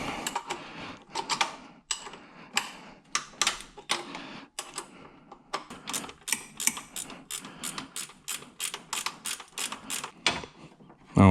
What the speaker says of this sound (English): ratcheting wrench